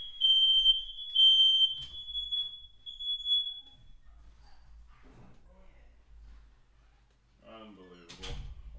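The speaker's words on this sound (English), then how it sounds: "tripped the fire alarm." A home smoke alarm shrills loudly with a steady high electronic tone for several seconds, then stops, followed by quiet room sounds and someone talking.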